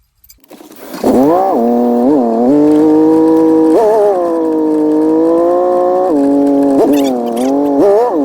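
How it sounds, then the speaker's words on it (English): An old custom shop truck drives along, its engine note steady and loud with a few shifts in pitch as it pulls, running continuously for several seconds. "Take a little ride in the old Colonel Custom shop truck."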